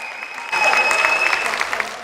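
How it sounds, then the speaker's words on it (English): An audience at a fireside chat with Jeff Bezos breaks into applause, a dense burst of crowd clapping that starts abruptly and continues briefly at moderate loudness. "A bigger round of applause for most of the people who are employed by Jeff."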